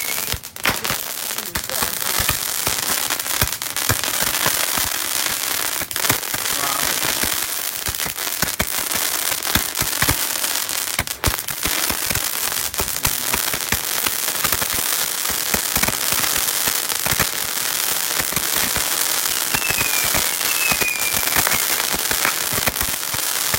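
A pack of mercon roman candle fireworks goes off outdoors, sending dense rapid crackling and sharp pops in a steady barrage for over twenty seconds, with a couple of faint whistles near the end.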